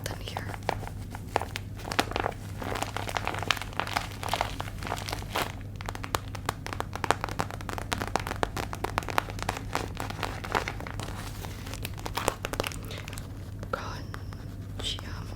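A paper squishy stuffed with a plastic bag and cotton is squeezed and crinkled up close, giving dense crackling and rustling bursts over a low hum, with soft whispered speech in places.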